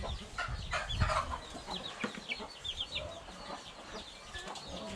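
Backyard chickens kept beside a house cluck in short bursts, several birds at moderate distance calling repeatedly over faint outdoor background.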